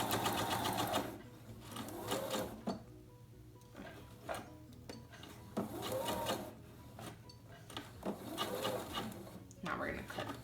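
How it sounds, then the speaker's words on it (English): A sewing machine stitches forward and back to lock the stitch while sewing an envelope pillow, with a steady motor whir in short bursts and light mechanical clatter between them. "we're gonna go forward and back to lock our stitch"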